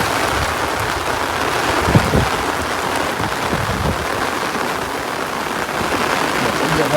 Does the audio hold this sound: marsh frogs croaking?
no